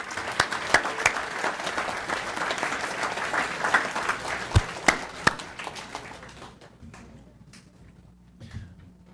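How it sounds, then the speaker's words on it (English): A school board meeting audience gives a big round of applause for students: dense, fairly loud clapping with a few sharp individual claps that thins out and fades to near quiet after about six seconds. "So one more big round of applause for the students."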